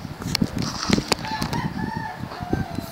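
Chicken clucks and crowing calls from a survival video game, in repeated short bursts over a busy mix of other game sounds, moderately loud.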